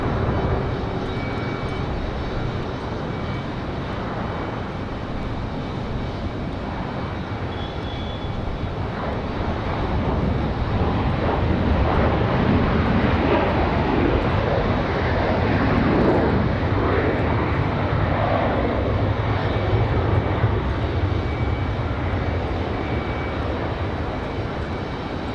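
Delta flight 1018 from Fort Lauderdale, a jet airliner, lands at Raleigh-Durham with a steady, loud engine roar and rushing air that hold throughout and swell slightly in the middle.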